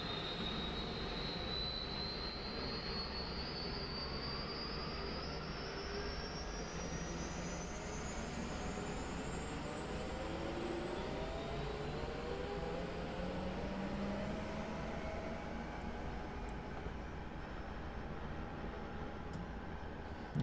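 A helicopter's turbine and rotor blades spin up, making a loud, steady, close roar with a whining tone that climbs gradually throughout, with no talking.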